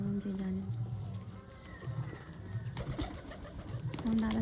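Pigeons coo in low, rolling calls close by, with a person talking over them and some shuffling movement nearby.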